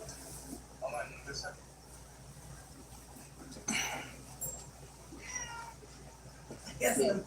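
A cat meows several times, short and fairly close, mixed with a person talking over it in a room with low background hum.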